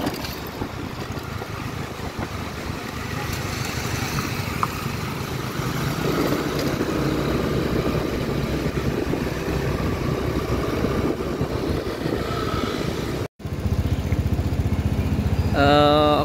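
A Honda Beat Street scooter with a fault where it bogs and loses throttle as if about to stall, ridden on the road, giving a steady engine drone with wind noise throughout.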